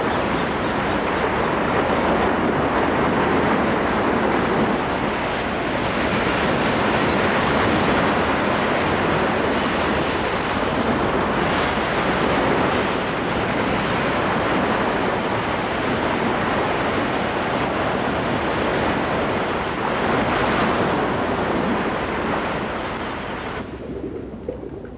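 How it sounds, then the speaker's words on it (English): Stormy ocean waves and surf roar steadily and loudly near kelp forests, with continuous crashing and wind noise. "In severe storms, whole kelp forests can be torn from their moorings, set adrift by the awesome power of the waves."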